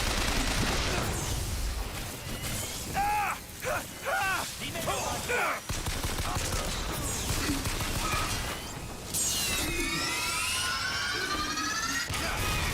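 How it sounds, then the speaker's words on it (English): Fireworks in Bioshock Infinite, actually exploding barrels, burst in a series of loud booms and crackles with whistling streaks, mixed with busy game ambience and some talk. "the fireworks are just exploding barrels"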